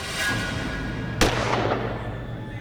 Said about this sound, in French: Mais elle a tiré un coup de feu.